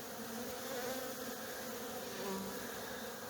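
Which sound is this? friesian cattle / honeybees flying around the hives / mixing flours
honeybees flying around the hives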